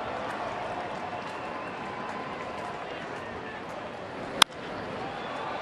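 Large crowd at a Tigers vs Yankees baseball game in Detroit, a steady broad roar of cheering and applause that holds throughout, with one sharp loud crack near the end.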